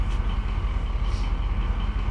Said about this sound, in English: It's a slight echo. You know, it's always on everything.